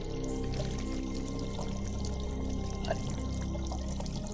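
In the video game Still Life, water pours steadily into a bucket. A continuous, even splashing stream holds at moderate volume throughout with no speech.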